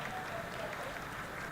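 Applause in a mission control room during the Chandrayaan-3 lunar soft-landing broadcast, a dense, continuous roll of clapping from many people, steady and somewhat distant, with faint voices underneath.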